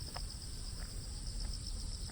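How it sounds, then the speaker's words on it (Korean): Crickets chirp in dewy reed beds on an early morning, a faint, unbroken high-pitched trill holding steady against quiet outdoor background. "귀뚜라미 소리도 들리고"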